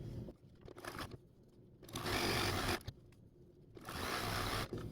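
Sewing machine stitching a vintage quilt table runner in several short bursts separated by brief pauses, close and moderately loud, with faint handling noises between runs.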